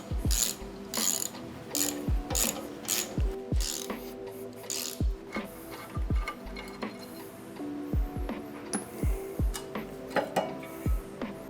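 A ratchet wrench clicks in repeated bursts as the trailer hitch is unbolted from the underside of a 4th gen Toyota 4Runner, with sharp metallic clinks and knocks between the strokes at close range.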